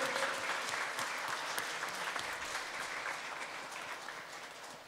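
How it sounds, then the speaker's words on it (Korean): Worshippers at a Korean church Sunday service give a long, steady round of applause, a dense even clapping that holds at a moderate level with only a slight fade toward the end. "영원까지 나를 사랑하는 하나님께 한번 영광의 박수 올려드립니다"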